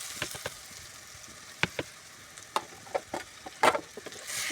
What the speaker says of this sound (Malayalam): ഇതിനകത്തേക്ക് നമുക്ക് നേരത്തെ കഴുകി തയ്യാറാക്കി വെച്ചിരിക്കുന്ന നെത്തോലിയും കൂടി ചേർത്ത് കൊടുക്കാം.